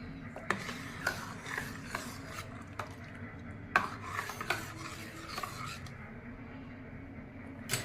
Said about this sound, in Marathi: वरण एकदम मऊ शिजलेलं आहे चांगलं ते आता घोटून घेणार आहे मी